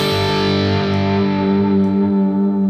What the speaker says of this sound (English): Or stacking fifths for a very nice open sound.